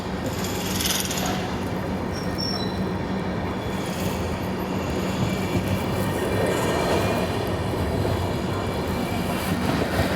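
The Vidarbha Express pulls out of Tumsar Road Junction with a continuous rumble of wheels and carriages, loud and steady throughout, heard from on board with faint squeals on top.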